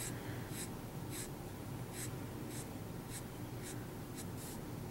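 Copic alcohol marker strokes on paper, laying light coverage across the middle of a golden brown fur drawing: about ten short, soft scratchy swipes in a steady rhythm, close and quiet over faint room hiss, with no talking.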